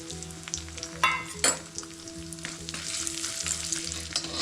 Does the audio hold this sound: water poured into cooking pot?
no